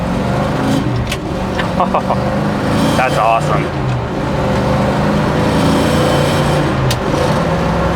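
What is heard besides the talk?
1967 Chevrolet Chevelle SS 396 big block accelerating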